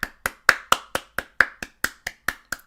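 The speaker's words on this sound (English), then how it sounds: "I'm in the theater alone just clapping." A single person claps hands alone in a theater, about a dozen sharp, evenly spaced claps at roughly four per second, close and crisp with no voices.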